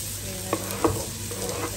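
Onions stir in a pan as they sauté, a steady broadband sizzle with two soft scrapes of the spoon near the middle, close and continuous with no voice.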